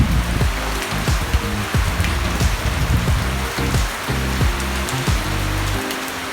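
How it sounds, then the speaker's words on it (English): Rain falls steadily in September, a constant broad hiss with a heavier, uneven low drumming of drops on a surface. "Rain in September, when 8 months a year we have no any drop of the rain, and now we have it."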